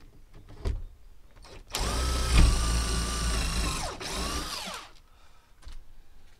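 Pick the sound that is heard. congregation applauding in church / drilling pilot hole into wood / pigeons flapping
drilling pilot hole into wood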